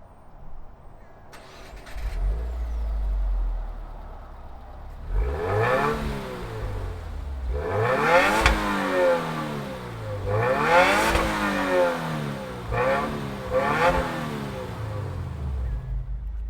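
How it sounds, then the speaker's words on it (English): A Subaru WRX Series Grey's flat-four turbocharged engine cranks and catches, then revs hard three or four times in rising and falling sweeps before settling back to idle. "let's fire it up and hear that flat 4 turbocharged engine"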